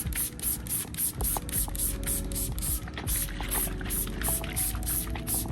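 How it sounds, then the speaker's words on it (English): Repeated bursts of waterless wash spray hiss in a steady rhythm onto a dirty car panel, about a dozen quick pumps close by, with faint background noise. "So let's go ahead and just spray some on."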